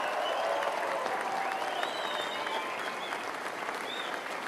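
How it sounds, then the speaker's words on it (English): Crowd applause at a Pierre Poilievre political rally in Fredericton, a sustained wash of clapping from a large room with whoops and cheers mixed in. "Give them a round of applause."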